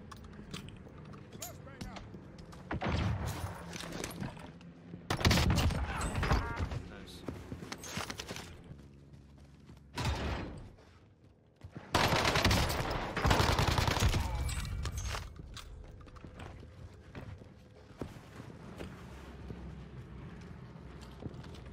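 Rifle fire from a BAR in the Pacific-themed shooter Warzone Pacific, with bursts of shots in several loud clusters separated by quieter gaps, while a player talks over the action.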